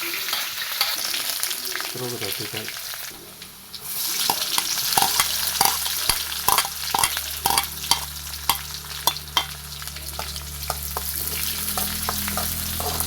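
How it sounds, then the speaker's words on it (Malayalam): Onion sizzles and crackles steadily as it fries in oil in a pan, with a spoon repeatedly scraping and stirring at an uneven rhythm, no voices. "ഉള്ളി നല്ല ബ്രൗൺ കളർ ആവണ വരെ നമുക്ക് മൂപ്പിച്ചെടുക്കാം"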